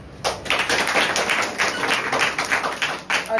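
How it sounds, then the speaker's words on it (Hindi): Audience clapping for students at an education event, a steady run of sharp claps lasting several seconds, loud and close with no voices over it. "मैं चाहूंगा कि तालियां बजती रहनी चाहिए।"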